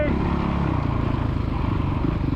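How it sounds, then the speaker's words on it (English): Kid's motocross bike on a dirt track, its engine droning and revving steadily throughout, with a pulsing buzz and some clatter, heard from a moderate distance. "Get revving up now."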